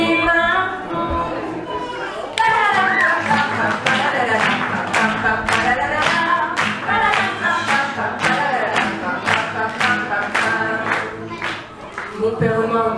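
Hands clap along to a French nursery rhyme at a live parenting fair, a steady run of about twenty sharp, even claps from a group, clear and fairly close, with faint voices between the claps.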